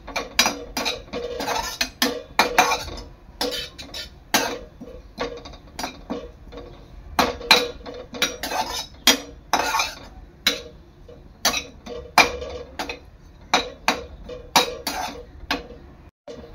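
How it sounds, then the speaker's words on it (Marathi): Grated coconut lightly roasting in a pan, stirred with repeated scraping and clinking of a utensil against metal in an irregular rhythm, close and moderately loud, with no talking. "खोबरं आहे ना हलकंसं भाजून घ्यायचं आहे, जास्त करपवायचं नाही।"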